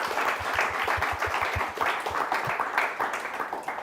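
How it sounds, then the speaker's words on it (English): A crowd at a talk by Antonio Roberts at Watershed gives a last round of applause, dense and steady from start to finish, with soft low thumps running beneath the clapping. "everyone will join me in giving Antonio a last round of applause"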